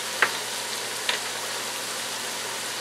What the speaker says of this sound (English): Let's add the tomatoes in.